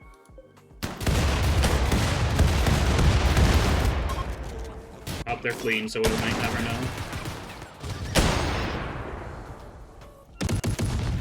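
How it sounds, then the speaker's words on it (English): A mech heavy machine gun in the video game Rimworld fires sustained loud bursts with sharp breaks between them, while a person talks over the gunfire. "Yeah, that's the mech heavy machine gun."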